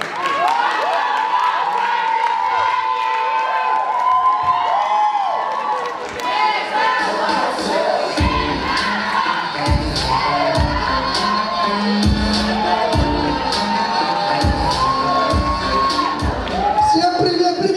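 KVN comedy competition audience at a university freshman week show cheering and clapping for a team, loud crowd shouts, whistles and applause mixed with excited voices and thumping music-like beats in the second half.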